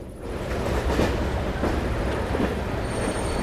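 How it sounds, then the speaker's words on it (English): Train arriving in the video game Age of Empires III, a loud close rush of rolling rail cars with squealing wheels and metallic screech, continuous and alone. "but the train's coming."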